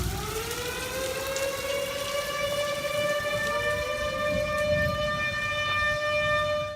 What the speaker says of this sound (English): there was a point when the tornado sirens went off.